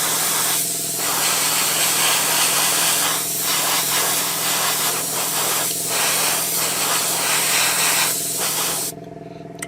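An airbrush spraying Vallejo Model Air RLM 74 acrylic paint onto a 1/12 scale Tamiya rider figure gives a loud, close, continuous hiss with several brief dips, then cuts off near the end.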